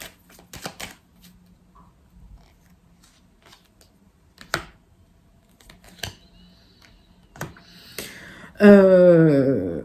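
Tarot cards being laid out and covered on a table, heard as scattered soft card snaps and slides, close and crisp, ending in a louder burst of handling noise.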